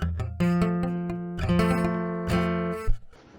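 A guitar strums a badly fretted F bar chord several times in uneven strokes, with some strings ringing and others buzzing or dead.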